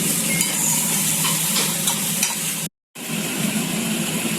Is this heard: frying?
yes